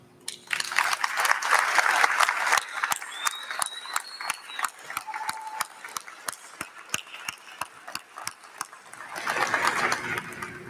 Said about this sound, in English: Aiden, please rise and receive a round of applause for your accomplishment.